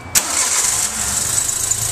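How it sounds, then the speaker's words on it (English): A car engine is started during an engine compression test. A quick crank catches and the engine settles into a steady, loud idle that runs for the rest of the two seconds. "And then, Chris, go ahead and start it up."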